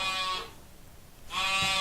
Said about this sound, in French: j'entends un petit bêlement